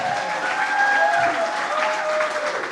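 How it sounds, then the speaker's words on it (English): An audience claps through a short, steady burst of applause at a live Brown County Hour radio show, a full crowd sound at even loudness with faint voices mixed into the clapping. "a round of applause for the Brown County Hour"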